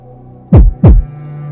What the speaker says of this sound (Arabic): كنت كنسمع غير الدقات ديال قلبي